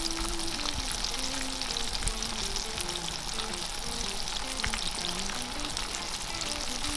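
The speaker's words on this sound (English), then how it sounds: "when you're frying the fish in this recipe, it's very, very important to get the temperature of your oil proper" Fish in pancake batter fries in hot oil with a steady, dense sizzle and crackle, close and continuous, with faint stirring clinks underneath.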